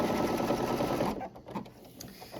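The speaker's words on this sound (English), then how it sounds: "I will have to stitch that lining closed." A sewing machine stitching a handbag's lining closed, running loud and steady at close range, then stopping abruptly midway, followed by a few light clicks.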